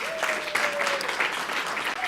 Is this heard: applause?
yes